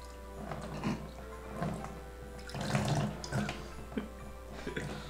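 Liquid pouring and splashing into an upside-down drinking glass during a party challenge, coming in short uneven bursts of trickling and gurgling, fairly close and moderately loud, with no talking.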